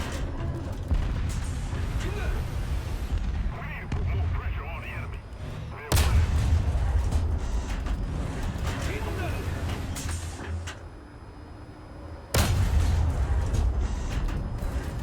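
Bkan 1C self-propelled artillery firing in the video game War Thunder, two sharp, heavy booms several seconds apart over a steady rumbling engine background, with someone talking throughout.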